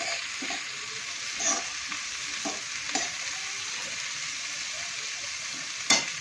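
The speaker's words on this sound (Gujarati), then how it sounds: "લીલા 2-3 મરચાં, બહુ શેકાવા નહીં દેવાનું, થોડું કચું પકું હોય એવું જ રાખવાનું છે અને મસ્ત એને શેકી કાઢીએ।" Two or three green chillies sizzle and roast in a hot pan for Gujarati mag pulav, a steady close frying hiss with occasional soft stirring taps.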